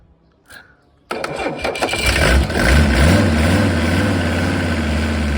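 A Mercedes OM617 3.0-litre diesel engine cranks briefly and catches, then settles into a loud, close, steady diesel clatter at idle, with a faint voice before the start.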